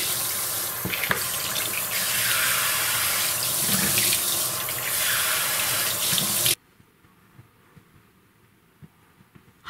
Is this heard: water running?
yes